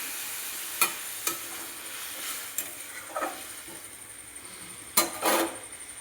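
Vegetables fry in oil in a pan with a soft, steady sizzle, broken by several sharp scraping stirs at irregular intervals, close up and with no talking.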